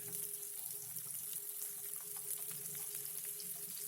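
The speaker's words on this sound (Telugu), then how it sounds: "నూనె కాస్త వేడైన తర్వాత ఫస్ట్ వెల్లుల్లి వేయాలి, తర్వాత ఉల్లిగడ్డ వేయాలి" Garlic and onion frying in hot oil for brinjal chutney, a soft, steady sizzle heard faintly and evenly throughout, with no talk.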